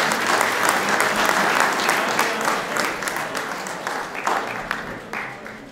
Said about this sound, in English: Please give Jana a round of applause.